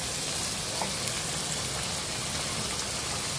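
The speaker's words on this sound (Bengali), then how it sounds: "ইলিশ মাছের বিরিয়ানির জন্য প্রথমে ইলিশ মাছটাকে আমরা ভেজে নিচ্ছি সুন্দর করে।" Hilsa fish seasoned with salt and turmeric fries in a pan, an even, moderately quiet sizzling hiss resembling steady rain, unbroken and without voices.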